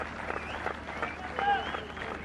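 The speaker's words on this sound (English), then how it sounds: "Good applause for a very fine cricketer." Cricket crowd applauding a Sri Lankan batsman's half century at a Test match against South Africa in 2000, steady distant stadium clapping with crowd noise and a commentator talking over it throughout.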